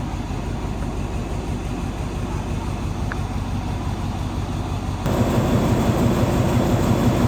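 A heavy freight train hauling stone wagons rumbles past steadily and close, a continuous low roar of rolling wagons that grows louder and harsher partway through.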